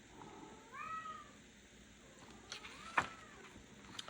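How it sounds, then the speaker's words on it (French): A cat meows once, a short rising-falling call, followed by faint rustling and a sharp click in a quiet room. "Désolée si vous entendez mon chat, Léo."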